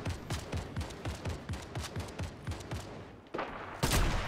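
Rapid bursts of gunfire in Fortnite Battle Royale, a steady run of evenly spaced shots, then a short pause before a louder, closer blast near the end.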